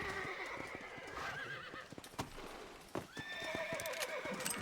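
Horse hooves clip-clop in the western video game Red Dead Redemption, a steady rhythmic trot close by, with a horse neighing and whinnying over it and a few sharp knocks.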